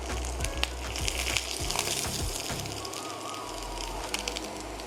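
Cheese-filled birria tacos fry in a pan, giving a steady close sizzle and bubbling hiss with a few soft knocks and crackles throughout.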